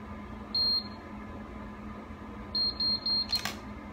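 An automatic hair curler beeps once, then gives a quick run of three or four beeps to signal the curl is done, followed by a brief click, all close and clear over a low background hum.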